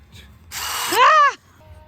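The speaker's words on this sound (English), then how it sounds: "I'm gonna pre-drill that." A power drill whirs up loudly, its motor pitch rising and then dropping off as it pre-drills a hole during greenhouse demolition in one short burst.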